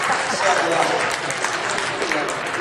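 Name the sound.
applause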